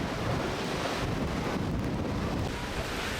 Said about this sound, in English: That's the ocean out there.